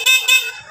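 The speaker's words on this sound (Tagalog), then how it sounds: "busina" Two quick, loud blasts of a Kawasaki Barako motorcycle's electric horn, close by and with nothing else sounding.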